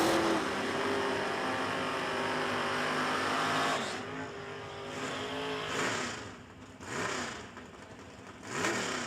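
David Wallen's Roadster drag racing car roars at a drag strip event, a loud sustained engine blast that fades and then swells again with rising revs and a final burst.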